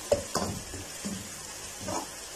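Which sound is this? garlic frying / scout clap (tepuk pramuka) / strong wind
garlic frying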